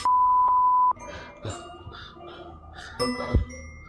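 A door alarm gives a steady high-pitched beep for about a second, followed by scattered clinks and rattles nearby.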